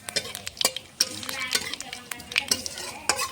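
Dried red chillies, bay leaf, cumin and nigella seeds crackle and sizzle in hot oil, with spoon scrapes and stirring clatter against the pan; steady close frying with sharp pops throughout.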